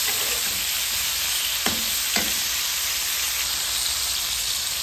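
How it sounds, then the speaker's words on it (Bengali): Hilsa fish frying in hot oil in a home kitchen, a steady loud hiss and sizzle throughout, with two brief clinks of a utensil partway through and no talk. "ইলিশ মাছ গুলো আমি এখন ভেজে নিব"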